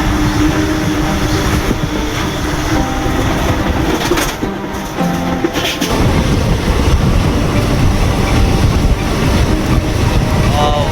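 A train near Bhusawal Junction on Central Railway rumbles loudly and continuously along the tracks, a close, steady roar with faint rattling of the carriages.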